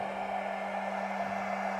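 An electric fan runs off a small 600W emergency solar power station, a steady even whir with a constant hum, moderately quiet and unchanging throughout.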